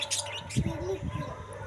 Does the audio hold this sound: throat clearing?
no